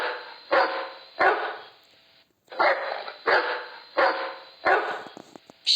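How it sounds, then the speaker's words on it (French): A dog barks loudly and close in six sharp, evenly spaced barks, each a short burst with a brief pause between, standing alone with no other sound. "chien"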